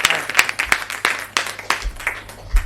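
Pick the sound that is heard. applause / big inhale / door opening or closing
applause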